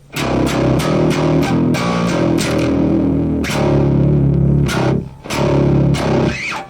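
A bass played through an MXR M80 DI distortion pedal gives loud, gritty distorted notes, struck in a quick run of attacks then held and sustained, with brief pauses and a final trailing note.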